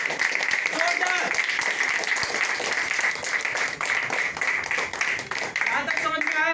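Audience applauding at a business joining-plan presentation, a dense steady wash of clapping that fills the whole stretch, with no voice rising above it.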